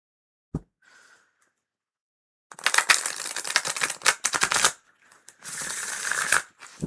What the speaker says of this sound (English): Do a lovely shuffle. These are lovely cards to shuffle.